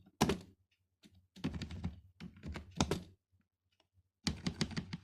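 Close computer keyboard typing while coding a Java Android tutorial, bursts of quick clicking keystrokes separated by short pauses, crisp and near.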